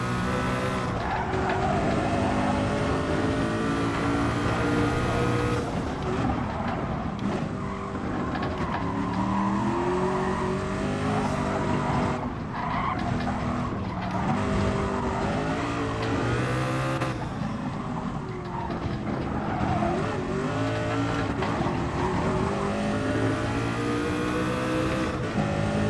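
A race car lapping the Nürburgring in GT Sport, engine revving up and down through the gears with repeated rising pitch sweeps, tire squeal and skids between bursts, loud and continuous.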